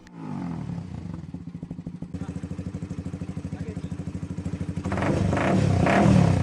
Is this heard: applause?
no